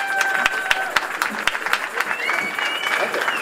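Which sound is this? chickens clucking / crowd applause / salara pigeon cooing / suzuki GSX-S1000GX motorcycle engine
crowd applause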